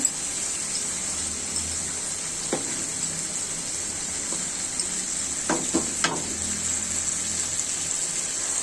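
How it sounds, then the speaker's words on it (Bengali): Rohu fish pieces sauté in a spice masala with a little mustard. A steady, moderate frying hiss is joined by a few short stirring scrapes and clatters near the middle and later part. "মাছগুলো একটু কষাই নিচ্ছি মশলাতে"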